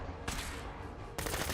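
Bursts of gunfire in the video game Fallout 4 during a fight with Raiders: a sustained volley of shots, then a second loud burst near the end, dense and close.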